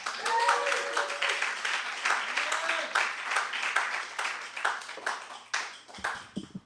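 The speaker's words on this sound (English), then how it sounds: "Please give her a warm round of applause." Warm applause from a bookstore staff showcase audience, many hands clapping steadily for several seconds before tapering off near the end.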